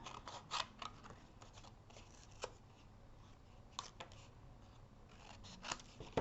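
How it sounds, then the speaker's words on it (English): Scissors snip off the ends of a cardstock card during a Stampin' Up papercraft project, giving a few faint, scattered cuts against a quiet room background. "And just cut off the ends."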